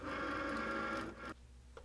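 A Cricut Maker with a scoring wheel runs over felt pieces, a steady mechanical buzzing whir that stops abruptly, leaving a low hum and a faint click.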